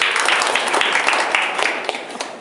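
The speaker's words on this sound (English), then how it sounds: "Give a round of applause for Gabby." A short burst of audience applause for a participant during a diversity name game, quick overlapping claps that are fairly loud and start to fade after about two seconds.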